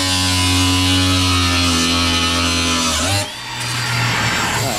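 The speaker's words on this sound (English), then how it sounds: "cutting off our exhaust" A loud power saw grinds steadily through a car's metal exhaust pipe with a sustained whine that shifts pitch near the end, close up and harsh.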